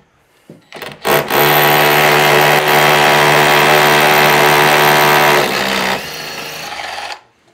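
A DeWalt cordless drill fitted with dust extraction starts with a couple of short bursts, then whines loudly and steadily close by for several seconds while drilling a hole before winding down and stopping.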